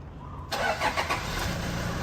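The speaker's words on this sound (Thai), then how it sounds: "สตาร์ท ฟังเสียงเครื่องดีกว่านะครับ" A 3.0 litre 2019 van's engine cranks and catches after a short pause, then settles into a steady idle, close by with no voices.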